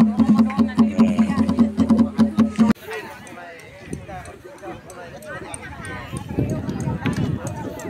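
Women beat likurai drums with goat-skin heads in a steady, loud, fast rhythm that ends abruptly partway through, followed by crowd noise and people talking.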